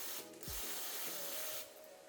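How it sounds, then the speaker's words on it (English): A short hiss of aerosol cleaner is sprayed down into the crankcase pressure/MAP sensor port of a 2024-2026 Buick Encore GX 1.3L, faint and close, with a couple of brief bursts separated by small mechanical clicks. "Just spray like that."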